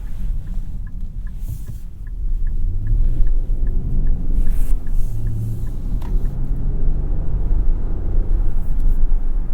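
A 2022 Nissan Pathfinder cruising on the road gives a steady low engine and road rumble with tyre noise, loud and continuous throughout, a faint regular ticking running through the first half.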